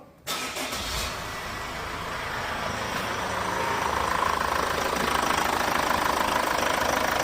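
A Chevrolet Captiva engine cranks and catches, then keeps running with a steady, close rumble and a faint knocking edge, its noise slowly building over the seconds without any talk.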